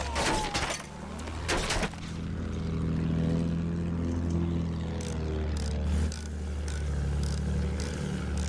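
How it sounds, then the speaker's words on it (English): Enemy bomber plane droning steadily in a combat video game, a continuous low engine hum with sharp gunfire-like bursts at the start and scattered impacts throughout. "Düşman bombardıman tayyaresi."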